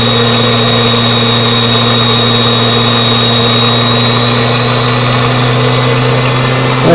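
A small basic impulse turbine runs on about 35 psi of compressed air, giving off a loud, steady high-pitched whine with a constant tone throughout.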